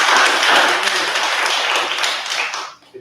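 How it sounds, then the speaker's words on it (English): A council meeting audience claps for police officers, dense and loud at first and holding steady before thinning and trailing off near the end. "We can clap for our police officers."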